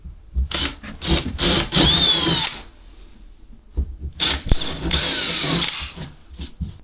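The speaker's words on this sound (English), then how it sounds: "I'm going to drill them through with an 11mm drill bit" A power drill with an 11mm bit whines and grinds through a wall in two long bursts, loud and close, with a quiet pause and clicks between them.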